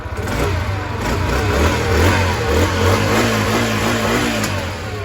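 A Honda Sonic 125 motorcycle with its original carburetor revs steadily close by, the engine note holding a continuous mid-pitched drone that rises and falls slightly, with no talking over it.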